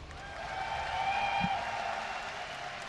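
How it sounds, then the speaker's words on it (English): A crowd at a live StarCraft esports tournament match cheers and applauds steadily, a broad roar of many voices holding at a constant level throughout. "give a cheer for Grubby"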